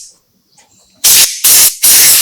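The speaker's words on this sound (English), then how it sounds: "I'm going to give it a quick spray off with some compressed air" Three loud, close bursts of compressed air blast across a Poulan Pro 50cc chainsaw after a clutch drum replacement, each hissing spray lasting about a quarter to half second with short gaps between, following near silence.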